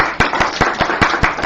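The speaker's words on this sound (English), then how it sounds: "So round of applause to Emma, because she's in the room." Regular claps at a steady pace, about five per second, sharp and close, from a sparse handful of hands rather than a full crowd at a launch event.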